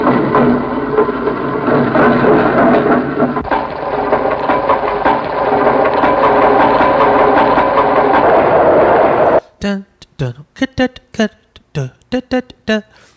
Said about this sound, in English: These are all recordings of trains, right?